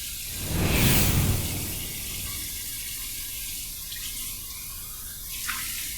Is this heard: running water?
yes